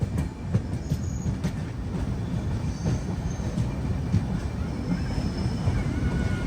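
Kumbh Mela special train running from Prayagraj toward Visakhapatnam, heard from inside as a continuous loud rumble with rhythmic wheel clatter on the rails and faint squeals.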